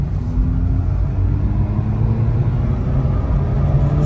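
A flooded, low-compression Mazda RX-8 with a rotary engine drives along, its steady engine drone and low rumble continuous and close throughout, with no break.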